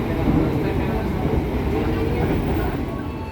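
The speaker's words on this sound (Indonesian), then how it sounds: "Kereta api Kertanegara telah tiba di stasiun Kutoarjo" Kertanegara executive class passenger train arriving at Kutoarjo station, heard as a steady, loud rumble of the moving train throughout, with no break.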